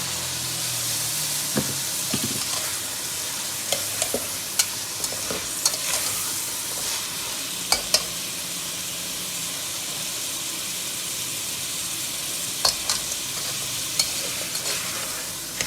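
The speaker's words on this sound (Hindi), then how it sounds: "तो अब मैं इसमें डालती हूँ शलजम, डाल देती हूँ।" Turnips tipped into well-fried masala for a Lahori-style shalgam curry hiss and sizzle steadily up close, with scattered sharp clicks and scrapes as the pan is stirred, and no one speaking.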